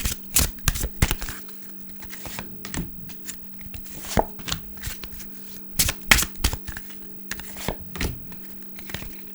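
Tarot cards shuffled and drawn from a deck: a steady run of crisp, close riffling flicks and soft slaps, with short bursts of card noise repeating throughout, no speech.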